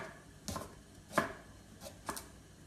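A knife slicing the head off a stalk of broccoli on a cutting board for a creamy dairy-free soup, heard as three or four sharp, separate cutting thuds spaced out across a quiet kitchen, with no talking.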